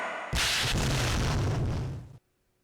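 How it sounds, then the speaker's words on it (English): A powerful explosion in a laboratory from the video game Monster Girl Quest bursts in suddenly as a loud, broad rumbling blast that sustains for nearly two seconds before cutting off abruptly. "In the next moment, a powerful explosion rocks the laboratory."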